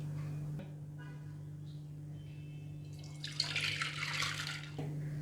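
Water pours onto soaked dal in a pressure cooker in a home kitchen, a faint splashing gush that starts about two-thirds in and lasts a second or so, over a steady low electrical hum.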